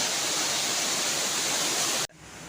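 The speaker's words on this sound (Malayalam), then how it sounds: "ഈ വെള്ളം ഇങ്ങനെ താഴോട്ട് ഒഴുകി പോവുകയാണ്" A monsoon waterfall plunging from a great height, giving a steady, loud, broadband roar that cuts off abruptly near the end, leaving quieter rushing water.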